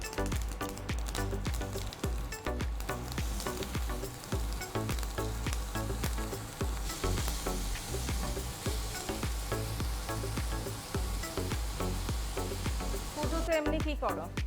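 Grated papaya, lightly softened, drops into a pan of fried mustard seeds for a Bengali trifola chutney, giving a loud, dense, continuous crackling sizzle with rapid rhythmic pops close by.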